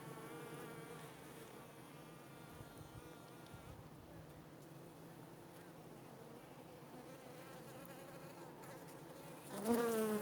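Steady, dense buzzing of many honeybees tending a newly emerged queen fills the clip at close range, continuous and even, with a brief louder burst near the end.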